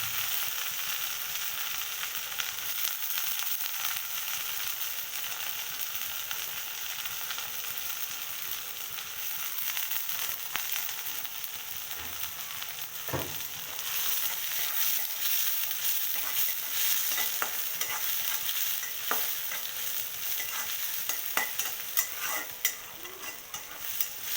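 Prawns sizzle and crackle steadily in a hot pan, a continuous loud frying hiss with occasional stirring scrapes, no voices.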